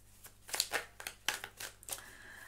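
Tarot cards handled, flipped and laid out across a table, giving a series of soft, crisp flicks and brushes in quick irregular bursts, close and quiet, with no talking.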